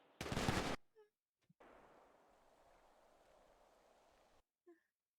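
A single sharp, loud rifle volley fired in salute, followed by a long fading echo and a couple of faint distant sounds afterward.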